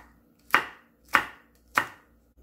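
A knife slicing Cheongyang and red chili peppers for Korean stir-fried squid chops three times on a cutting board with sharp, evenly spaced knocks, close and alone.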